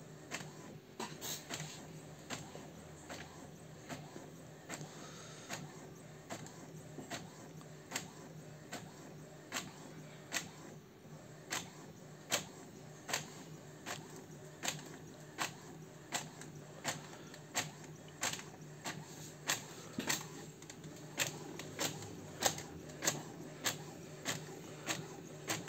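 An Epson M1100 printer runs through a long 54 cm stencil print, producing a steady series of faint mechanical ticks and clicks at a regular pace over a low hum, with no talking.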